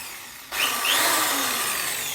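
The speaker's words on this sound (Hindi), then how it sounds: "और ड्रिल चलाते हैं ज़रा" An electric drill running on power from a Sorotec 1200-watt solar inverter starts abruptly after a quiet moment. It then whirs steadily and close by with a continuous high motor whine, with no voices.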